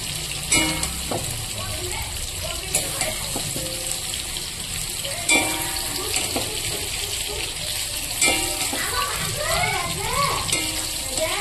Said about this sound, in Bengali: ভাজা সবজিগুলো আমি দিয়ে দেবো খিচুড়িতে।